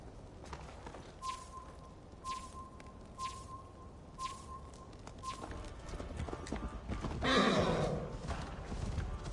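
A horse in Assassin's Creed Valhalla trots with steady hoofbeat clip-clops under a repeating soft in-game tone, then a louder rush of movement and a snort or whinny near the end.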